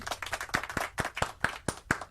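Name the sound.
applause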